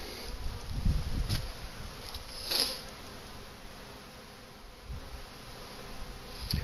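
Honeybees buzz around hives as a colony is split and field bees return to their original hives, a soft continuous insect hum outdoors with a few louder passes nearby.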